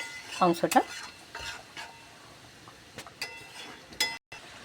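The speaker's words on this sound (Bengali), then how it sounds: "আমি মাংসটাকে নেড়ে ছেড়ে কষিয়ে নিচ্ছি।" Chicken pieces stirred and fried in a pot for a home-style curry, with a few metallic scrapes and clinks of a spoon against the pot over a faint, low sizzle, all close by.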